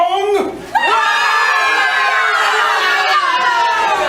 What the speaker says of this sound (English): We hear the citizens of Pompeii from the film shrieking in horror